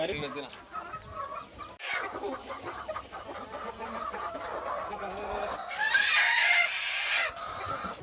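Free-range country chickens on a natural poultry farm cluck and call in a busy, overlapping chorus, with a rooster crowing prominently near the end and some faint background voices.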